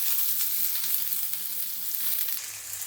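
Shallots, green chili and curry leaves frying in hot oil for Kerala-style squid thoran, a close, steady hissing sizzle that fills the whole stretch with no talking.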